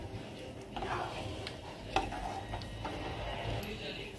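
Chicken keema with peas being stirred in a pan, soft scraping and clinking of a spoon against the metal over a faint sizzle, with a sharper knock midway, close and fairly quiet.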